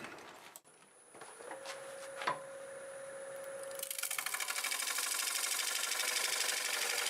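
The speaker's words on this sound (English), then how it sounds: "Just going to flatten that top off using this square carbide." A square carbide tool flattening the top of a wood piece turning on a lathe, first a quiet hum with a few sharp clicks, then a loud, dense, rapid chattering scrape that holds steady to the end.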